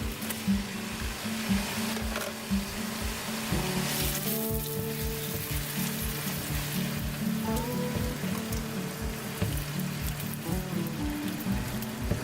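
Calamari pieces sizzle steadily in a hot pan seasoned with black pepper, a continuous close crackling hiss with small pops running throughout, no voices.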